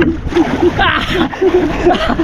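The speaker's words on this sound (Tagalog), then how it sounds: "Lakas ng agos" A strong river current splashes and churns loudly and close by during net fishing, with rough surges of water rushing continuously while people talk over it.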